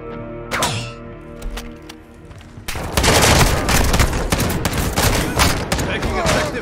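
Gunfire in Call of Duty: Modern Warfare II, a few scattered shots over radio-style chatter and music, then a loud, dense, sustained volley of automatic fire and impacts.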